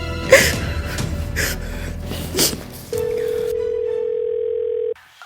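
Brief voices and breaths, then a steady telephone dial tone hums alone for about two seconds before cutting off abruptly.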